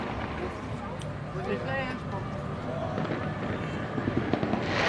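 Fireworks bursting in the distance at a festive outdoor expo, heard as a steady rumbling crackle with scattered pops that build toward the end, under crowd murmur and occasional voices.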